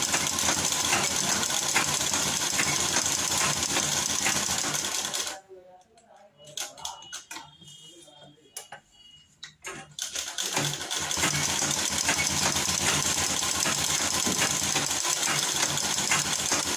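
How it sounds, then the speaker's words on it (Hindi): A sewing machine runs a finishing stitch along a lace-trimmed V-shaped neckline with a loud, steady, close whir. Midway it pauses for a few seconds of lighter clicking and handling noise, then resumes at full speed. "यहाँ पे हमें एक फिनिशिंग की सिलाई चलानी है"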